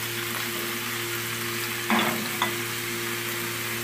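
Onion and garlic sautéing in a pan, a steady close sizzle with a low hum beneath and a brief stir or scrape of the spatula near the middle.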